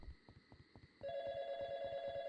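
A phone rings in a video game, a steady electronic trill that starts about a second in and holds, with a quieter tone and soft ticking rhythm before it and no voices.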